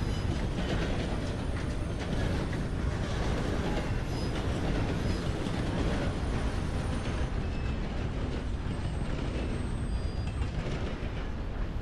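A steam train in Red Dead Redemption 2 rolls steadily on its rails, a dense continuous rumble with faint rhythmic clatter running throughout, loud and close with no talking.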